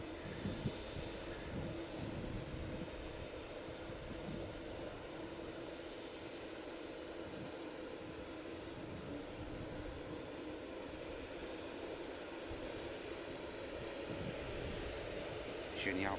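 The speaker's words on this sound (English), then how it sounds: "just pushing back as well, another stunning aircraft, Cathay Pacific 350" A Cathay Pacific Airbus A350 airliner pushing back at Manchester Airport, a steady, distant engine drone holding level throughout, low and broad with no distinct peaks.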